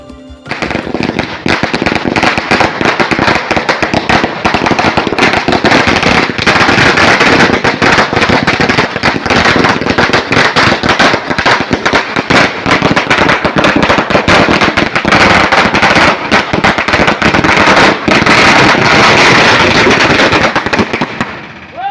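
Firecrackers burst in a dense, continuous crackling barrage in front of the Tiptur APMC during a Kargil victory celebration, loud and close, running nearly the whole time with no pauses.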